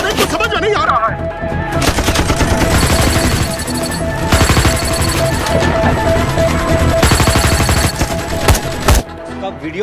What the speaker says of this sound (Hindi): हम तो फायरिंग कर रहे हैं सर